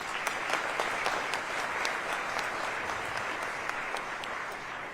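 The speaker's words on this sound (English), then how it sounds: "let's give him a round of applause" A university crowd at a state-of-the-university address applauds for a dean, a continuous mid-level roar of many hands clapping with a few sharper individual claps standing out.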